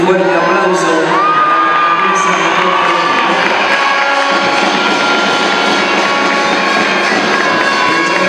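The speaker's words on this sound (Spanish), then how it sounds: "Pido un fuerte aplauso." A loud crowd cheers, whoops and shouts at a town queen-election pageant in Catamayo, a sustained roar of many voices including high children's cries, with tonal shouting lines rising over the din.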